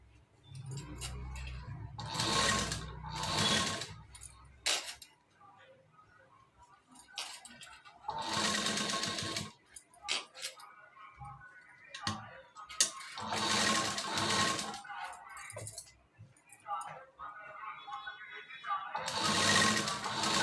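A sewing machine stitching piping around a blouse neckline runs in several loud bursts of rapid whirring, separated by quiet pauses and small handling noises.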